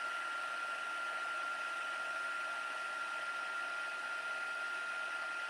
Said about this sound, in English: I'm going to take my heat tool and turn it to level 2 and just heat emboss the gold embossing powder